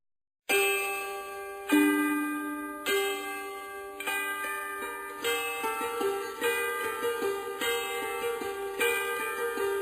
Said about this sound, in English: Hark how the bells, sweet silver bells, all seem to say, throw cares away